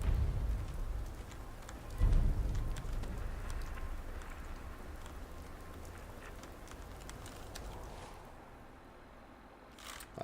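Steady rain hiss in the game Fallout 4, an even wash of falling water with faint scattered ticks and a brief swell near the start, heard alone without talk.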